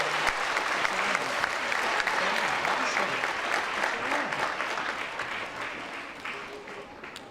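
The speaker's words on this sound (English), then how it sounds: "Can we give them one more round of applause?" Steady applause from an audience, dense clapping that holds strong for several seconds before slowly thinning and fading toward the end.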